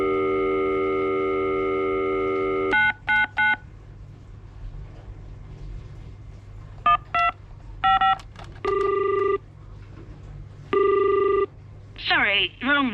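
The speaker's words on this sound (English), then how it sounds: "Sorry, wrong number. Dial again." A telephone plays a series of dialing tones followed by repeated ringing bursts and a rising warble tone, loud and close, with a low background hum and no talking.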